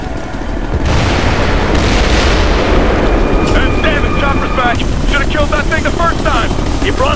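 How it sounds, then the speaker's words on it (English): A planted charge detonates in the video game Ghost Recon Future Soldier: a loud, close boom that swells into a heavy rumble lasting several seconds, with sharp clattering sounds near the end. "Plant charges. Charge is hot!"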